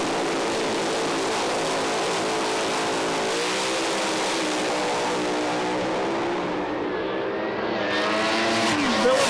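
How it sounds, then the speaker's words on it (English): Pro Alcohol drag racing cars at East Coast Thunder in Sydney revving hard: a loud, sustained, dense engine roar that holds steady and swells near the end. "Man, those things rev hard."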